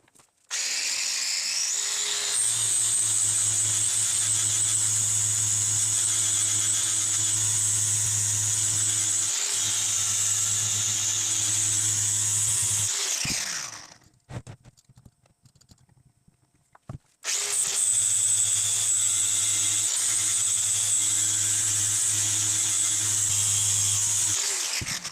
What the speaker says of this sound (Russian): Для этой операции я буду использовать болгарку вот с таким лепестковым кружочком.